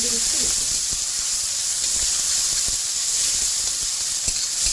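Garlic paste frying in hot oil for a prawn malai curry, giving a loud, steady, close sizzle and hiss throughout, with faint spoon taps against the pan and a brief voice near the start.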